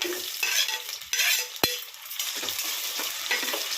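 Mustard seeds, green chillies and onions fry in a pan with a continuous sizzle, broken by stirring scrapes and one sharp metallic clink of a utensil, close up and without speech.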